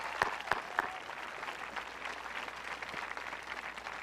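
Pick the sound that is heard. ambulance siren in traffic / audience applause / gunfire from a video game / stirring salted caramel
audience applause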